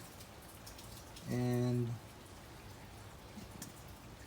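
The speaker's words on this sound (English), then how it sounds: "it rains here a lot" Steady rain falling outdoors around a 2014 Toyota Corolla project car, a constant soft hiss of drops throughout, with a brief spoken word over it.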